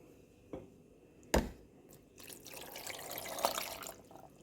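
A cup of water is poured into a blender holding mango peels and sugar, with a few sharp knocks followed by a soft, close stream of liquid.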